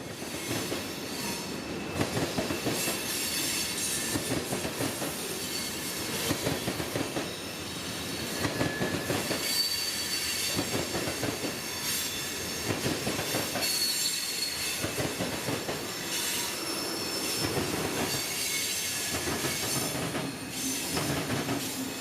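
A CSX freight train rolls past on the tracks, wheels clacking rhythmically and squealing at times, a steady loud rumble that continues throughout.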